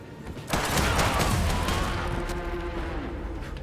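Gunfire in the Hard West 2 video game: a sharp onset followed by a sustained, loud burst of shots and rumble that slowly decays over several seconds, with no voices.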